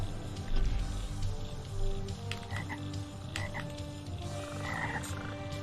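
Frogs croak in the SolSeraph video game, a steady chorus of low croaks layered with game music and scattered chirps, continuous and moderately loud.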